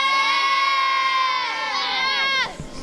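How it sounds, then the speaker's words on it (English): Football fans of Albion Rovers give a big, loud cheer, many high voices shouting together for about two and a half seconds before it breaks off abruptly. "Big cheer."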